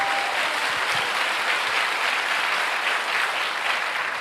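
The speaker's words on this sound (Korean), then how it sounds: "성령 하나님께 영광의 박수 올려드리겠습니다." Congregation applauding inside a church during a Korean worship service, a steady dense wash of clapping from many hands that holds evenly for several seconds with no talk over it.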